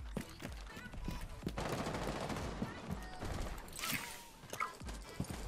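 Rapid gunfire crackles in the tactical shooter Rainbow Six Siege, a fairly continuous stream of shots and impacts mixed with footstep-like thuds, moderately loud and close.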